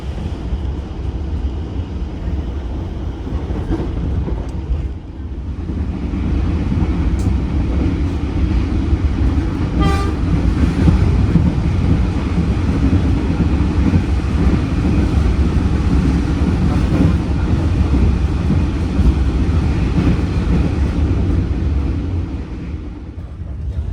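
An economy-class passenger train with facing seats rumbles along on the Jakarta–Weleri route, a steady, loud low roar with rattling carriage noise and a brief click or squeal partway through.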